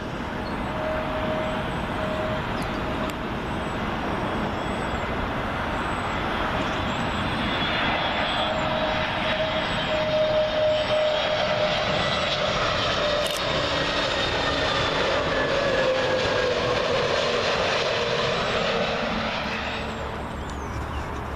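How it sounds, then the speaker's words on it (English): A British Airways Airbus A320 arriving from Copenhagen passes loud and close overhead while landing on runway 27L at Heathrow, with a sustained jet engine roar and a steady whine that build and hold across the whole pass. "Next one in, British Airways A320, in from Copenhagen."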